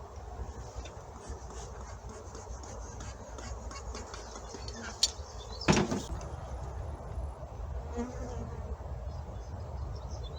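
Honey bees hum in a dense, steady drone around an opened, crowded hive during a swarm transfer into a hive box, close and continuous, with a brief wooden knock or scrape from the frames partway through.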